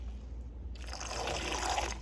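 Lime juice poured into a vegan, gluten-free sauce being mixed for meal prep: a short, steady splashing trickle that starts abruptly and runs for over a second, fairly close and with no talking.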